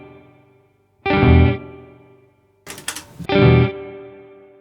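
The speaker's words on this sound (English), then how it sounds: "I think the reverb time may be a smidge longer on that one." Electric guitar run through a spring reverb effect on Kemper and Quad Cortex amp modelers: two struck chords, each with a drawn-out, shimmering decay tail, and a splashy, noisy reverb crash between them.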